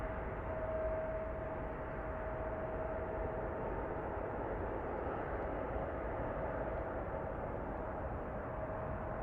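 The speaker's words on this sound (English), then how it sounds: "this Southwest flight that's taking active right now, this is headed out to Denver, 737-700" A Southwest Boeing 737-700 takes off on a Sunday evening, bound for Denver. Its engines give a steady, broad roar throughout, with a faint tonal whine riding on top, and no voices are heard.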